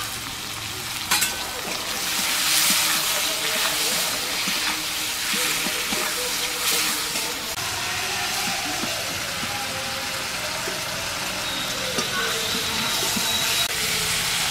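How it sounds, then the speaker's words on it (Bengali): Shrimp seasoned with salt and turmeric fry in hot oil, a steady broadband sizzle holding for the whole stretch with occasional soft stirring clicks, close and fairly loud, with no voices. "হয়ে গেছে চিংড়িগুলো ভাজা এবার আমি নামিয়ে নেব"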